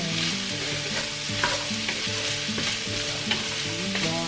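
Food frying in avocado oil, a loud dense sizzle close up and continuous, with a pitched tone pattern running underneath throughout.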